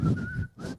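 A person briefly whistles a short two-part tune imitating the whistle from Once Upon a Time in Hollywood, faint and close, with a small gap between the notes.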